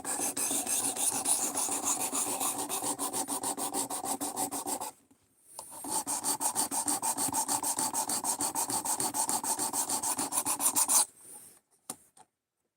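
A blade is sharpened with a rapid, rhythmic rasping of many quick strokes, broken by one brief pause and ending in a few isolated scrapes.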